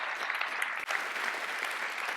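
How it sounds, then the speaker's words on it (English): Steady applause from an audience at a robotics awards ceremony as the finalists are honoured, a dense, even patter of many hands filling the room, with a brief dip partway through. "please join me in giving a big round of applause for the finalists"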